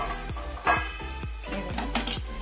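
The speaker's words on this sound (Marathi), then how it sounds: "आता मी झाकण काढून" A metal lid lifted off a pot of sabudana khichdi cooking on a gas stove, with a handful of sharp clanks and clinks in quick succession, close by and with no voices.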